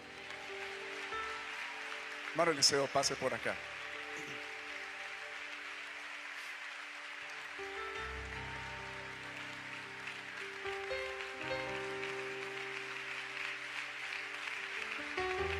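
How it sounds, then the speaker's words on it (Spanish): Applause welcoming missionary Eliseo Duarte at a Spanish-language church interview event, a soft crowd clapping in the background while someone speaks and some brief tonal sounds ring out early. "acompáñenme a recibir con un fuerte aplauso al misionero Eliseo Duarte"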